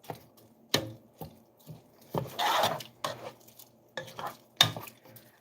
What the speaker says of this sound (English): Just stir it up to combine.